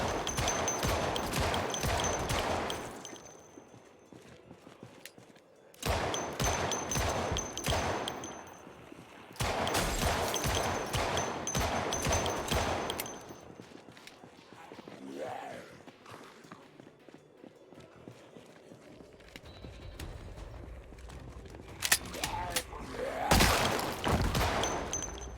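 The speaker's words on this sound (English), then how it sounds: "now that it's mostly clean here, let's start some shooting" Gunfire in Project Zomboid: several loud, dense volleys of rapid shots in separate bursts, with quieter gaps holding footsteps and ambient noise.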